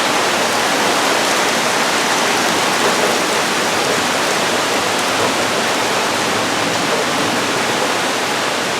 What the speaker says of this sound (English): None of the gutters can handle the amount of rain coming through, and all the gutters are open.